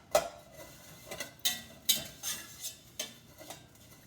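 A spoon stirs rice pilaf in a pot, giving sharp metallic scrapes and clinks at an uneven rhythm, about eight distinct strikes, close and fairly quiet, with no talk.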